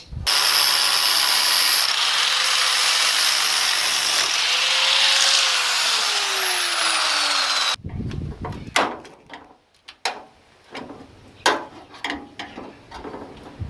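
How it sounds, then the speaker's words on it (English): A cutting disc on an angle grinder cuts rusty car-body metal on a Mitsubishi Sigma, making a loud steady whine for about eight seconds. Then the disc stops and scraping and clanking handling noises follow. "we'll get the disc out and we'll start cutting"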